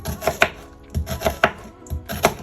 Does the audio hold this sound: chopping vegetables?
yes